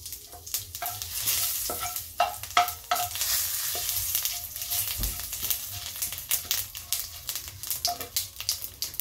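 Whole cumin seeds spit and sizzle in oil amid busy clattering and scraping of a spoon stirring in the pan, sharp bursts over a frying hiss.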